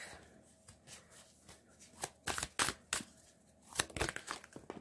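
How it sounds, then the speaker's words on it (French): Tarot cards are handled and laid out: quiet papery shuffles and soft slaps come in short, uneven bursts, with a few sharper flicks toward the end, all close and without talk. "Et ensuite, je vais mettre les cartes de tarot."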